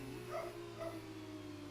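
A dog barks twice in the background, two short faint yaps about half a second apart over a steady engine drone from an Xbox F2 racing game at the China round.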